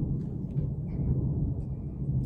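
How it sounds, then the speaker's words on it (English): Low, steady rumble of distant thunder rolling continuously for a couple of seconds, deep and sustained with no talk over it. "Did anyone else hear that thunder?"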